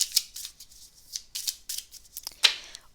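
Tarot cards being shuffled by hand during a reading, a series of quick crisp riffling and slapping bursts, close and fairly soft, with no talk.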